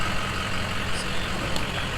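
Steady low engine rumble of a truck moving off at moderate distance, continuous broadband noise throughout with a couple of faint high clicks, no talking.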